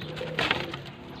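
A pair of Ferozpuri pigeons gives a short, soft cooing call at close range, a brief rounded coo with no talking.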